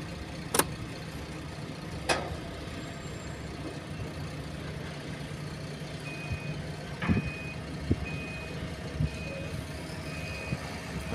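Warning beeps from a Hamm road roller as its key is switched on, a string of short, evenly spaced electronic tones over a low steady hum with a few sharp clicks, heard alone without talk.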